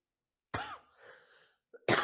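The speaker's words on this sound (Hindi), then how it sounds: "खांसी आ रही थोड़ा" A man, a Hindi-speaking teacher in the middle of a general-knowledge revision class, coughs twice, sharp and close, with a short breathy pause between the two bursts.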